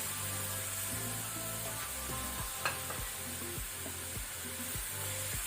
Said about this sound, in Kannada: ಇದನ್ನು 1 ಮಿನಿಟ್ ಫ್ರೈ ಮಾಡಿದ್ರೆ ಸಾಕು ಟೊಮೆಟೊವನ್ನು.